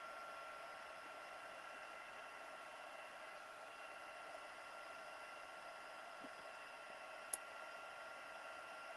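A heat tool for embossing runs steadily through the whole stretch, a constant airy blowing hiss at moderate level with one brief sharp tick near the end, no talking.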